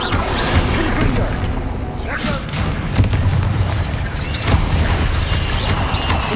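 Blasting spell explosions in Hogwarts Legacy, booming impacts and crashing debris with whooshes in a dense, loud combat mix, repeated bursts across the span, with faint speech underneath.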